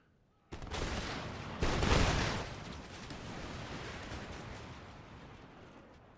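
Musket volleys in Empire Total War crack out in two heavy rolling salvos about a second apart, the second louder, then a long dense rumble of scattered fire and echo dies away slowly.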